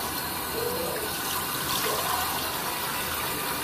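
Hot water pours steadily from a tap onto a towel at a bathroom sink, a continuous broadband splashing rush close by with no voices.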